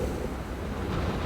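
Strong wind gusting through the upper Stimson Creek Valley in the mountains, a steady, close, rushing roar with buffeting on the microphone, heard alone without any voices.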